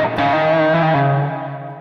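Electric guitar through a Zoom G3X multi-effects pedal with an arena reverb and the expression pedal fully up, a sustained distorted chord ringing loud and alone, then slowly decaying into a long, wide reverb wash.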